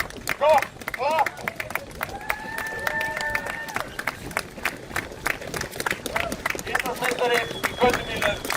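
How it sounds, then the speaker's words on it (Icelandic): An audience claps in bursts for the winner at an awards ceremony for an Icelandic street-car drag racing championship, with crowd noise and a voice talking over the applause. "Gefið sigurvegaranum gott klapp."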